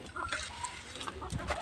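Country chickens on a small desi chicken farm clucking in short repeated calls, close and moderately loud over a low background.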